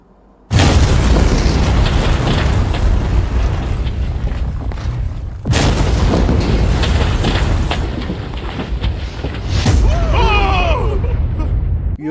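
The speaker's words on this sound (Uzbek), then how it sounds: "juda katta portlash sodir bo'ldi" Big explosion from a staged blast with tanks, an abrupt loud boom followed by a long roaring rumble, a second heavy blast midway, and a voice calling out near the end.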